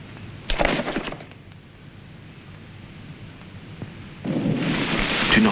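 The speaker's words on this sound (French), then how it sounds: "À l'aube, la tempête éclata, aveuglante, d'une fureur contagieuse." A thunderstorm breaks at dawn in a 1955 French film: a sharp crack of thunder rolls into rumbling, eases, then heavy rain and thunder surge back loudly near the end.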